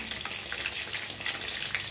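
Steady, dense sizzling of chicken deep-frying in hot oil, continuous and close, with bright crackling and no voices.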